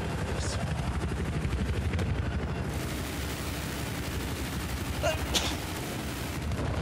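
A helicopter in the video game Battlefield 4 keeps up a steady rotor thrum amid bursts of gunfire and explosions, loud and continuous throughout.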